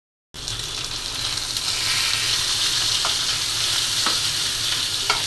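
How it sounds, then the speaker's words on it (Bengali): Fish frying lightly in a pan, a steady close hiss of oil with a few small crackles and pops scattered through, no voices. "মাছটা বেশি কড়া করে ভাজবো না, হালকা হালকা ভেজে নেব"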